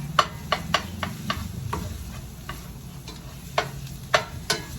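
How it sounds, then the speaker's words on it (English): A spoon stirring sauce with onions and garlic in a pan, a gentle sizzle punctuated by a dozen irregular sharp clinks and scrapes against the pan, close up and without speech. "You're gonna mix it with the onions, the garlic, everything else that you had in the pan."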